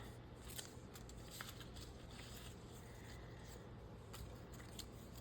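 Scissors fussy cutting small fabric scraps, giving faint, close, irregular snips and crisp clicks over a low steady background hum, with no voices.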